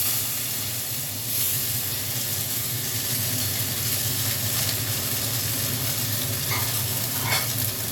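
Ash gourd pieces fry in hot oil tempered with nigella seeds, giving a steady, dense sizzle throughout with faint utensil clinks near the end and no voices.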